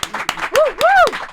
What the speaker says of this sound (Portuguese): eu queria que a nossa plateia recebesse com palmas calorosas para o Marcos Varanda e para a Iana